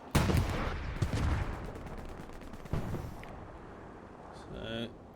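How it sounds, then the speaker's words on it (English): Incoming smoke rounds and rockets in a World War II tank battle video game at night near Kharkov: bursts of gunfire and thudding impacts crackle and rumble, with a voice talking over part of it. "Do see some smoke rounds coming in here."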